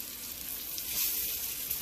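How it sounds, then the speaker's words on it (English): Butter sizzles and toasts in a pan, with a quiet, steady crackling hiss that holds throughout and no voices. "That's my butter in there. That was big. I toast my butter a little bit."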